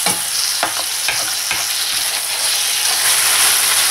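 Minced chicken and onion fry in a pan as filling for chilli lumpia, giving a loud, steady, dense sizzle with a few stirring scrapes near the start.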